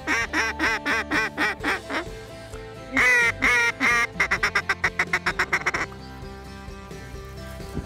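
Mallard ducks quack in repeated bursts and rapid runs, loud and close, in a Saskatchewan waterfowl-hunting setting, with a brief faint voice in the background.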